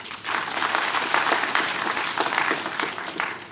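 Seated attendees at a university innovation and entrepreneurship week event at UCAD applaud the communications staff, steady, dense clapping from many hands that carries for a few seconds at moderate distance with no talk over it.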